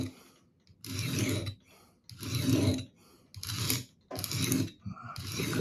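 An old whetstone rasps against a knife's steel blade during sharpening, in four or five loud, broad scraping strokes, each lasting about a second, with short quiet gaps between them.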